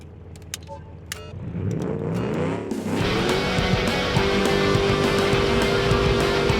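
In BeamNG.drive, an Agros Striker compact muscle car drifts as its engine revs up in rising, climbing pitch sweeps, then holds a loud, sustained high-revving roar.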